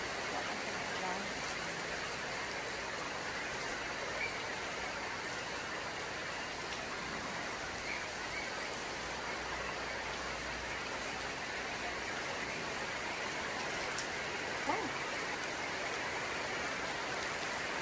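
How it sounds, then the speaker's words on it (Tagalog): Heavy rain pours down in a steady, dense hiss that fills the whole stretch evenly, with a faint low hum underneath and scattered voices in the background. "Lakas ng ulan."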